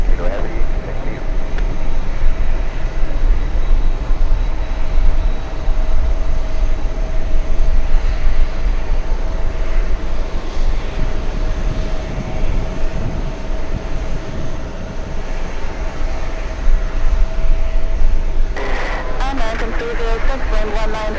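A Swiss airliner takes off at JFK, its jet engines making a steady, broad roar from a distance that holds for the whole stretch, with radio voices and airport noise underneath.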